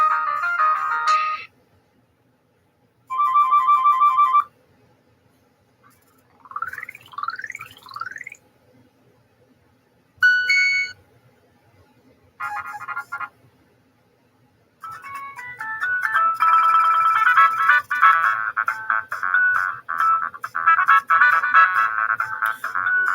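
A phone ringtone plays a tinny electronic version of the Chicken Dance in loud, close bursts separated by short pauses, then a longer continuous stretch of the tune with no talking.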